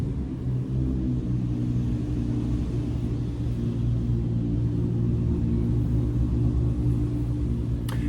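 Steady city traffic drifts in through an open window as a constant low rumble and hum of cars, with no distinct passes standing out and a faint click near the end.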